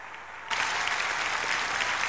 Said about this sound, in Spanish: Un aplauso fuerte, por favor